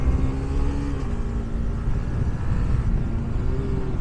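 A Honda CBR150R motorcycle pulls away from first gear on a test ride, a constant loud engine drone with rising whine and heavy wind rumble, close and without talk.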